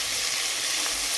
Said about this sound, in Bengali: আর কয়েকটা মাছ ভাজতে আছে